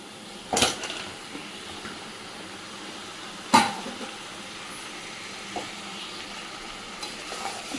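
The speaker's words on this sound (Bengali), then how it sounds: "এবার আমি ভেজে রাখা চিকেন আর আলুটা আমি এর মধ্যে দিয়ে দেব।" Fried chicken pieces and potato go into a pan of hot spiced oil: two sharp clattering drops, then a low, even sizzle with faint scrapes of stirring and no one speaking.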